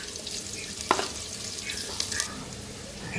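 Onions sizzling in leftover fish-frying oil while cooking hilsa with eggplant and potato, a steady soft crackle with a few brief sharper pops and stirring scrapes, close and with no talk.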